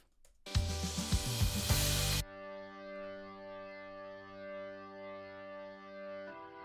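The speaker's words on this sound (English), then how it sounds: "So I added an organ, a classic rock organ towards the end of the song." A sustained classic rock organ chord holds steady after a brief loud burst of full-band pop-rock music cuts off, droning on at moderate volume with a slight pulsing swell.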